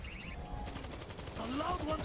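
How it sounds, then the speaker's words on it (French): Rapid machine-gun bursts from a World War Z co-op zombie shooter rattle loudly and continuously over game noise, with players talking at the same time. "J'essaie de recharger la mitrailleuse."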